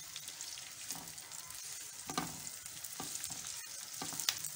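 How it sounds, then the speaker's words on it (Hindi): Green chillies frying in a pan for a spiced chilli side dish, a steady hiss of sizzling with soft scraping stirs and occasional sharper pops, close and fairly quiet throughout. "ये आप देख सकते हैं ये मिर्चें फ्राई हो रही हैं।"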